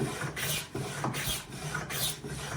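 A Stanley No. 48 tongue-and-groove hand plane cuts a groove in wood, producing repeated close rasping strokes about every half second, each a brief scraping swish, with no talking.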